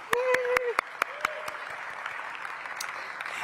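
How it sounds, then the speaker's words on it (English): Crowd applause at a mayoral luncheon fills the clip, a steady wash of clapping with a few sharp claps and a brief voice near the start, fading slightly toward the end. "Let's give her a round of applause."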